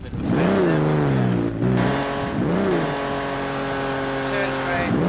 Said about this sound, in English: Let's hear that engine on this car.